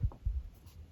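A pencil lightly tracing around a round tin on paper, making a few faint, short scratchy strokes close up.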